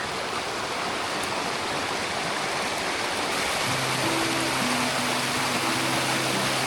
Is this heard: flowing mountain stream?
yes